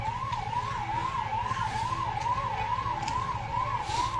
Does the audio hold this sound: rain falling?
no